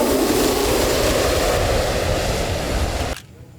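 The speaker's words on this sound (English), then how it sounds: "I had to come back to see the plane again" An airplane on the island of St. Barts roars loudly and steadily with a broad engine rumble, then cuts off abruptly near the end, leaving only quiet background.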